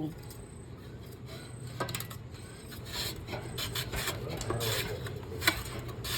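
Steady rasping scrapes repeat as potatoes are pushed across a hand slicer's blade to cut chips, with a low background hum and occasional sharper strokes.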